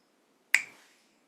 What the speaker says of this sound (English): the time of a finger snap